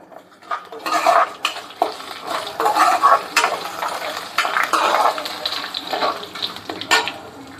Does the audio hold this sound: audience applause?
no